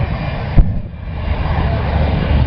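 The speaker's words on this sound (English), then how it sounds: "Listen to the sound of these twin Allison engines." Twin Allison aircraft engines drone loudly and steadily at an air show, a close, continuous roar with a brief thump early on and faint voices underneath.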